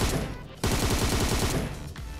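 Gunfire in the video game PUBG Mobile, a loud, close automatic weapon firing in rapid continuous bursts with a brief pause before the shooting resumes.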